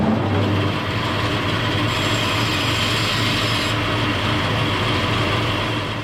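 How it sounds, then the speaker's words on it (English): Fire bricks cut down to size for a log cabin heat treatment area, heard as one continuous loud gritty grinding and rasping that runs close and unbroken for the whole stretch, with no talking. "first thing to do is to cut these fire bricks down to size"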